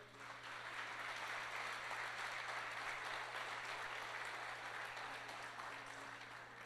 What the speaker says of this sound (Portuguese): E aplauda Jesus bem forte